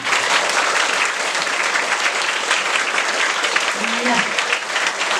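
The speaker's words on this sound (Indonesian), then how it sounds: "Tepuk tangan untuk pastor kita." Loud, dense applause from a gathering at an evening reflection at a camp, honoring the pastor, steady clapping throughout with a brief voice cutting in near the end.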